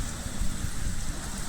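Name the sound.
heavy rain falling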